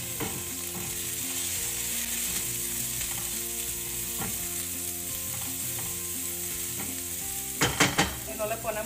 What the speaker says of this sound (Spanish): Le voy a poner a guisar primero la cebollita con ajo